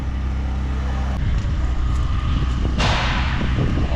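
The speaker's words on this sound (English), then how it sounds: "All sorts of engines." Antique engines run at a pre-1930 tractor auction, including a big two-cylinder hit-and-miss pump engine. A dense, continuous chugging drone sounds close and loud, with sharper irregular knocks and clatter layered over it throughout.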